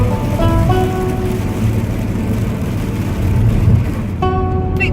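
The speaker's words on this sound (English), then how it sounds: "Rains all the time. Where we go, rains." Rain falls steadily in La Mancha, Spain, a constant hiss and patter on surfaces, with faint tonal hums drifting in and out beneath it and no talk.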